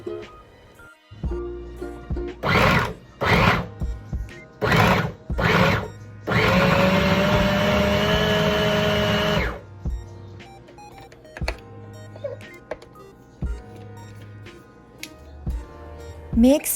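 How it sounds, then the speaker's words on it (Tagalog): A food processor blending avocado purée runs in several short whirring pulses, then holds one loud continuous grinding burst of about three seconds, followed by quieter clicks and handling noises. "Mash the avocado using fork, or you can use food processor to blend it."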